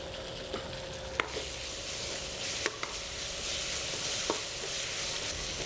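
Ginger garlic paste sautés in a pan over golden onions with a quiet, even sizzle, marked by occasional sharp scrapes of a spoon against the pan.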